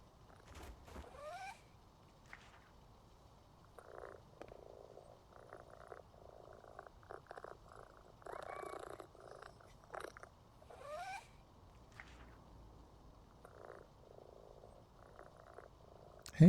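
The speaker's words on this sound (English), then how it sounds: "I do have cats purring in the background" Cats purr softly and close by in a quiet room, in intermittent low rumbling bursts across the span, with a few brief higher chirps mixed in.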